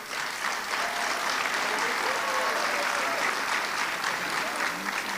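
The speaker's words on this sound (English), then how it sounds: "I'm going to ask that you hold your applause to the end just so we can get through all of the names" Steady, loud audience applause during a name-reading ceremony, a continuous dense clapping that stays even throughout with no breaks and a few voices blended in.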